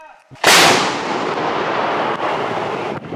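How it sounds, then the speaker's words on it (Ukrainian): One loud, close Ukrainian artillery blast cracks out, then a long rolling rumble fills the air for several seconds. "лише чуємо, як важко працює українська арта в напрямку кіндратівки"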